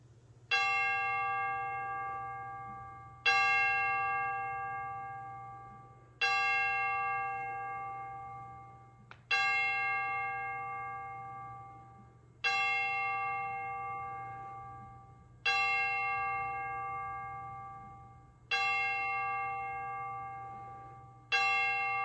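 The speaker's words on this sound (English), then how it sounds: "let us listen to the chimes and enter into worship" Church bells ring out at a Christ UCC worship service, a series of loud, resonant strikes about every three seconds, each tone ringing and slowly decaying over a steady low hum, with no voices.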